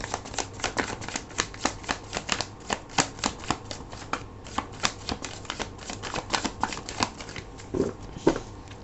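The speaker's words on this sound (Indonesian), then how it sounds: "ini tadi terlalu banyak ya kartunya, aku akan shuffle lagi" Tarot cards being shuffled by hand, a steady run of crisp riffling flutters and soft slaps repeating close up for several seconds with no voices over them.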